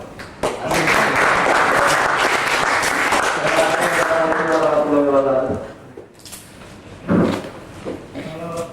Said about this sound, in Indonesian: yang sekarang itu baru murni tepuk tangan untuk narasumber kita gitu